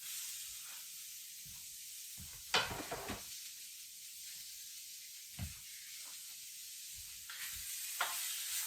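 Onions and carrots frying in a pan for homemade ramen, a faint steady hiss with occasional louder bursts of sizzle and utensil scrapes as they are stirred, with no talking.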